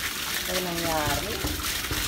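Water gushing hard from a motor-driven pump, a loud continuous splashing rush with voices talking over it.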